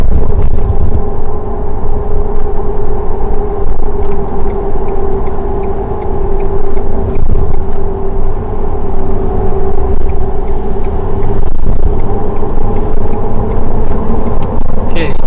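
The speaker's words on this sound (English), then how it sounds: "there's times where I don't want to put on my radio and just listen to the tires" Steady low tire roar and cab rumble from a Ford F-150 on 33-inch tires with no lift, cruising the highway at about 80 km/h, loud and continuous from inside the truck with faint ticks.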